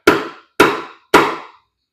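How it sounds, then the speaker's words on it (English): Someone taps three times with a rubber hammer on the front oil cover of a 2008 BMW 650ci engine. The blows are evenly spaced, close and loud, and each dull thud decays quickly. "I'm gonna get a rubber hammer and then I'm gonna tap on the front oil cover here to get it off."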